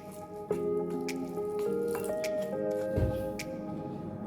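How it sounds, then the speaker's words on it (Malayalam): Water is poured into flour and stirred into a batter for an easy Iftar snack, giving soft wet squishes and drips close by, with a few sharper taps and a dull thud near the end. "അപ്പോൾ അതാ ഞാൻ വെള്ളം ഒഴിച്ച് കൊടുക്കുന്നുണ്ട്"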